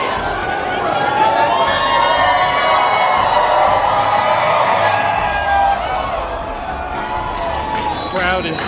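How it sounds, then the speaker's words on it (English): A huge crowd cheers, shouts and whoops at the opening day of Star Wars Galaxy's Edge at Disney's Hollywood Studios, making a loud, continuous roar with voices and chatter mixed through it. "Crowd is deafening."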